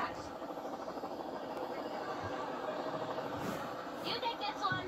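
Steady helicopter rotor and engine drone, moderately loud and continuous throughout, with no clear speech over it.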